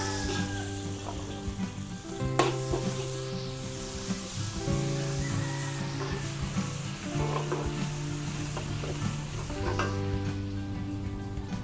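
Onion and garlic sizzle steadily in hot margarine in a pan for a Filipino dish, with occasional stirring clatter and a soft tonal background throughout.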